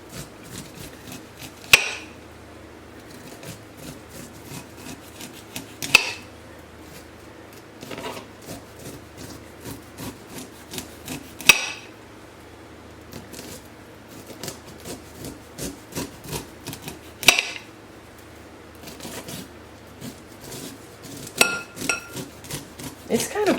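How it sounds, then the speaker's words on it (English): A knife scrapes fresh corn kernels off the cob in repeated strokes, with occasional sharp clinks as the blade hits the plate. "I'm sorry if this gets loud from my knife hitting this plate."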